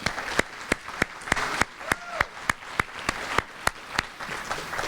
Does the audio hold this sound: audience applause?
yes